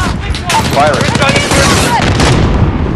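Rapid automatic gunfire in the Call of Duty Modern Warfare video game, loud and continuous bursts with booming impacts, mixed with shouted radio-style voices.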